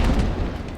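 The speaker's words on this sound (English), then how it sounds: "Lovely artillery hits there," Artillery hits in the video game Napoleon: Total War, set in an American Civil War battle: a single deep, loud booming impact that rolls on briefly without talk.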